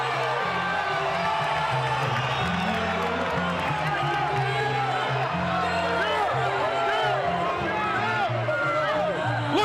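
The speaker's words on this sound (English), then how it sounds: "The crowd is going bonkers." A boxing crowd roars continuously during the Oscar De La Hoya vs Floyd Mayweather fight, loud dense cheering and whooping with a commentator talking over it.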